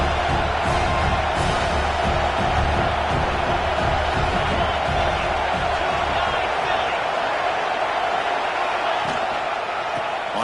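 Football stadium crowd roaring loudly and continuously during a Georgia red zone defensive stand, a dense sustained wall of cheering noise with no gaps.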